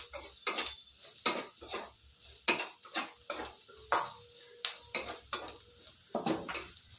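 Masala is stirred in a pan for a capsicum curd gravy, a spoon scraping in regular strokes about twice a second with a light sizzle beneath. The sound is close and steady, with no talking.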